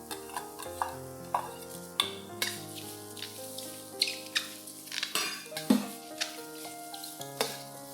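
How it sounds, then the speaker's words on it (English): Mushrooms dry frying in a hot pan without oil, soft sizzling under sharp metallic clinks and scrapes of a utensil against the pan, close and fairly quiet with uneven rhythm. "When the pan is hot, add in the mushrooms."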